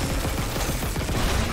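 Pulse rifle fire in Dead Space Remake on hard mode, a rapid, continuous burst of automatic shots with a steady rattling rhythm, loud and close throughout.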